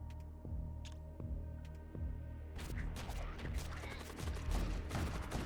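A volley of gunfire in an FTL-style Warhammer 40K roguelike begins as a few sparse thuds over a low hum and then builds into a dense, sustained barrage of crackling shots.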